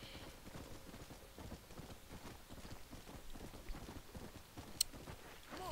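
Horse hooves clip-clop in a steady running rhythm through the game Red Dead Redemption: Undead Nightmare, fairly faint and continuous, with a brief sharp click near the end.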